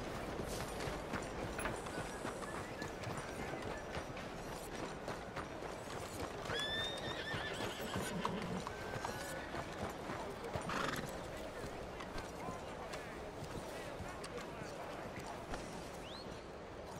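A horse in Red Dead Redemption 2 neighs and its hooves clop steadily, with faint game voices mixed in underneath.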